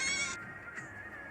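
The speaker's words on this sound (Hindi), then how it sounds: "बकरी यह सुनकर मेमे करती हुई चली गई।" A goat gives a short, faint bleat, a single wavering cry that fades quickly with nothing else around it.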